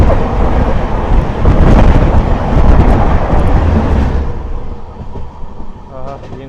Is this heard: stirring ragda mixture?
no